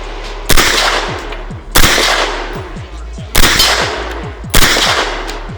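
Full-auto gunfire at an outdoor shooting range: four loud, close bursts of rapid shots, each ringing out with short gaps between.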